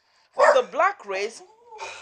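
Two dogs barking and whimpering indoors, close by, in a short burst of several loud yelps and whines that trail off, with a voice joining near the end.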